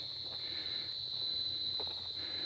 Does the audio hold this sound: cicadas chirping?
yes